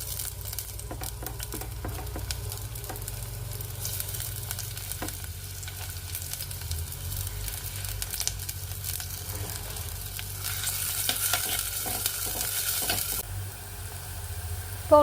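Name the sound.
chopped onions frying and stirred in a pan for fish curry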